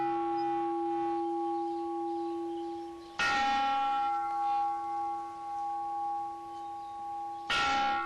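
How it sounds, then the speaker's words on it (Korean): A meditation bell at a meditation retreat rings twice, each strike a sharp onset followed by a long, steady humming ring that slowly fades, with quiet stillness between. "그중 하나가 30분에 한 번씩 울리는 종소리 명상."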